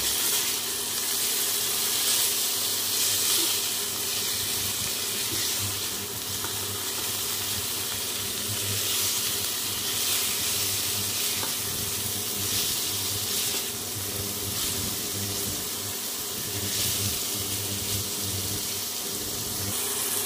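Paneer frying in a pan with salt and turmeric for a Bengali aloo paneer dalna, a steady close sizzle lasting throughout with occasional stirring scrapes and no talk.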